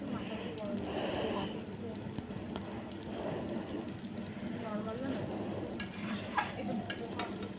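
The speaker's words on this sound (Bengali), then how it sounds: "বারবার নাড়াচাড়া করতেছি যদি লেগে না যায় নিচে" Chicken chowmein is stirred repeatedly in a wok, a scraping, soft sizzling churn under a constant low background hum, with a few sharper clinks toward the end.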